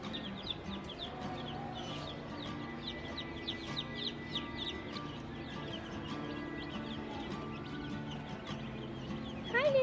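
Baby chicks cheep at a farm store, a busy chorus of high, rapid peeps running steadily throughout at moderate distance, with store background hum beneath.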